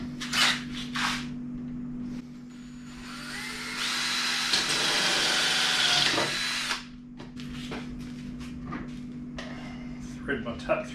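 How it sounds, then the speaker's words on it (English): A power drill bores a hole through the wall of an Ironman camping fridge being built into a kegerator, a steady whine for a few seconds with short tool noises and a voice before and after, over a constant electrical hum. "Drill that hole."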